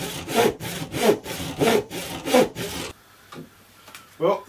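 A hand saw cutting oak to length, about five rhythmic rasping strokes close by, then the sawing stops and a quiet pause follows with a few faint knocks.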